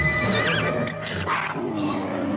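A horse whinnies loudly and shrilly, its neigh rising and wavering over a noisy, busy background, with a second cry following close behind.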